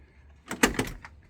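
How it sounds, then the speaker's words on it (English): Door of a Raven Black 1969 Ford Mustang Mach 1 428 Cobra Jet opening up close: a quick cluster of latch clicks and a thunk over about half a second, then a faint trailing clack, with no talk. "open the door here"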